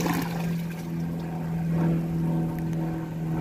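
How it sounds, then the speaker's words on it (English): A 2022 Kohler Elliston toilet flushes, water rushing and swirling down the bowl in one continuous gurgling wash, close and fairly loud over a steady low hum. "Now it's time for the first ever flush."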